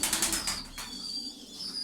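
Pigeons offered in a children's holiday raffle flap their wings in a quick burst of fluttering, followed by soft cooing and faint chirps, close and fairly quiet.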